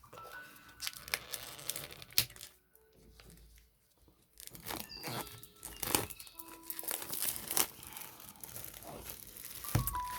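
A cardboard oracle card box is opened carefully by hand, with close crinkling, scraping and tearing bursts in irregular spurts and short quiet pauses between them.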